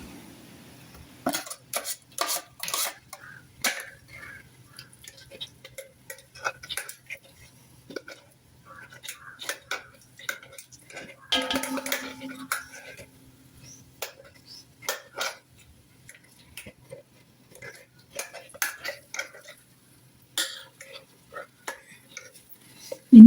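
A ladle scrapes and knocks through thick wood apple jam in a pot, giving irregular clusters of scraping and clinks with pauses between strokes, close and fairly loud, with no one talking.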